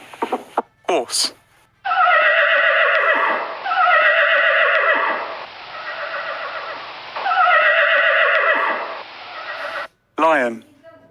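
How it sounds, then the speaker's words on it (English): A horse neighs loudly and close, with three long shrill whinnies that waver and fall in pitch, plus a few short snorts and sharp sounds before and after. "Horse."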